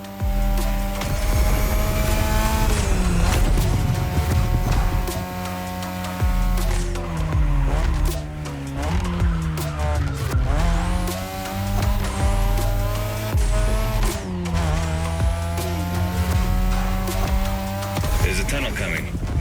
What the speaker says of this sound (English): Tonight, your ride is a third-gen 2002 Mazda RX-7. Lightweight, compact, a sick rotary engine